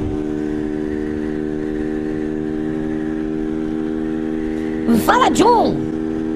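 A motorcycle engine drones at a steady high pitch, then gives two or three sharp rising and falling revs near the end. A voice calls out over it.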